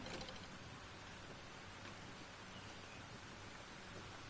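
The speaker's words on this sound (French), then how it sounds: "Ah, il pleut." Rain falls in the open-world island game Tchia, a steady soft hiss of drops spread evenly across the whole stretch with no voices.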